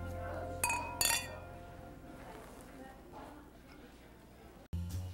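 Glasses clink together in a toast: two bright, ringing chinks close together near the start, then quieter room murmur under a voice, ending in a sudden cut and a low thump.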